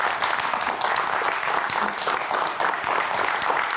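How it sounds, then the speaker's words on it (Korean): An audience at a lecture on the science of longevity gives a professor a big round of applause, thick continuous clapping, loud and even throughout with no voices. "오늘 재밌는 강의해 주신 교수님께 여러분 큰 박수 부탁드리겠습니다"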